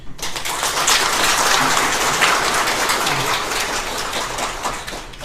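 A hall audience gives a speaker a big welcoming round of applause: dense, loud, continuous clapping that holds steady for about five seconds and then begins to thin at the end.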